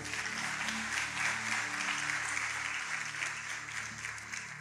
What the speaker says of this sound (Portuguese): Você que pode aplaudir o Senhor, aplauda, por favor.